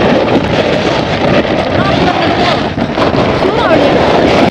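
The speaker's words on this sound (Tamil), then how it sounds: "காற்று கூட கூட கடல் அலைகளும் அதிக அளவாக வீசி கொண்டே இருக்கு" Loud, continuous wind from Cyclone Ditwah on the coast at Jaffna, Sri Lanka, roars against the microphone, with a broad rushing wash of sea waves underneath, unbroken for the whole stretch.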